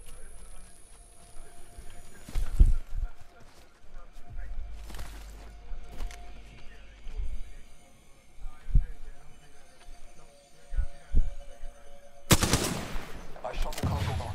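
Gunfire in Apex Legends aimed at a cargo bot: a few sharp single shots scattered between quieter game sounds and footsteps, with a loud burst of noise near the end.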